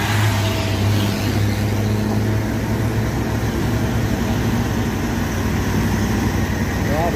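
A heavy trailer truck engine drones steadily and loudly while pushing an L300 pickup up a steep hill, a constant low labouring rumble with no pauses.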